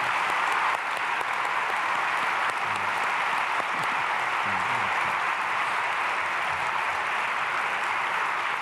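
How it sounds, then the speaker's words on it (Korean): A church congregation claps in a sustained, even wash of applause that holds steady for several seconds, with faint murmurs underneath. "박수하겠습니다."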